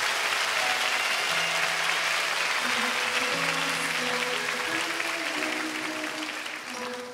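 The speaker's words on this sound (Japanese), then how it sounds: "パチパチパチパチ、ではご退場ください" Steady, dense audience applause continues at a Code Geass anime birthday event as the performers leave the stage, with soft music tones beneath it, easing slightly toward the end.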